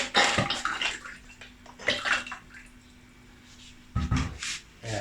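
Water runs from a filter tap in a rented house, pouring in bursts that start, ease off into a quieter trickle, then gush again, close by.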